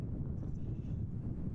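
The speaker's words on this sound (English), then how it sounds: "then the wind gusts are blowing me over a little" Wind gusts blow into the microphone at an airport runway on a windy day, a low, rumbling buffet that stays steady and fairly faint through the short stretch, with no talk.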